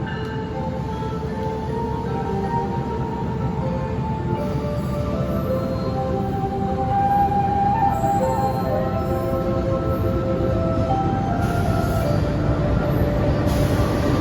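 A passenger train running on the Jakarta–Surabaya line pulls into Cepu station, giving a steady, loud rumble of wheels and carriages throughout with faint squeals and tonal hums on top, no voices.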